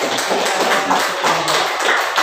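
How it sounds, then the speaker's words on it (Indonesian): A group of people in a classroom or workshop clapping hands together, a dense, fairly loud patter of claps with a loose pulsing rhythm and no talk. "tepuk tangan dulu untuk yang sudah selesai"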